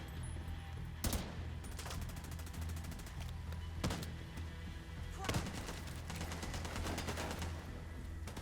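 Gunfire in The Division 2, repeated rapid automatic bursts and sharp single shots cracking across a constant rumbling combat bed, loud and close throughout.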